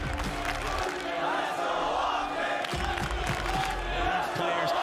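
Loud esports arena crowd cheering and roaring continuously across the stage, a dense sustained wall of voices with some whoops rising above it, and no single voice standing out.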